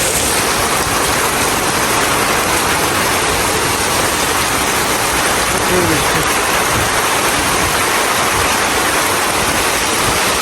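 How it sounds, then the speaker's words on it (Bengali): Heavy rain falls in a strong windy storm, making a loud, dense, unbroken roar for the whole stretch, with no clear gaps or individual drops standing out. "এত বৃষ্টি জোরে জোর বৃষ্টি ঝড় হচ্ছে বাতাস বুঝলেন দেখেন বাতাস কত দূরে আসছে"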